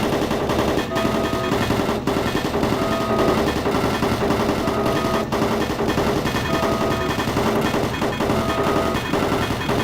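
Automated turret guns in the video game Doom 3 fire in steady, rapid machine-gun bursts, loud and continuous for the whole stretch, with a rhythmic mechanical clatter and no pause.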